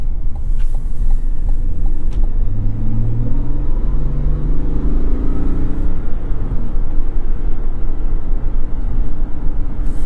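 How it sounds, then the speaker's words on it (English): A large GMC Yukon SUV accelerates up a highway on-ramp toward 50 mph, its engine giving a steady loud rumble mixed with road and wind noise that builds in pitch through the pull. "50 miles per hour on this on-ramp, no problem for this truck"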